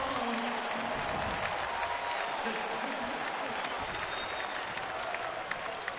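A basketball arena crowd roars and applauds after a dunk in a college game, a dense sustained wash of cheering and clapping. A commentator's voice can be heard faintly beneath it.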